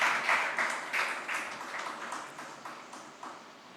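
Parents at a school felicitation program clap in a sparse, fairly regular rhythm, a handful of distinct claps that gradually soften over a few seconds.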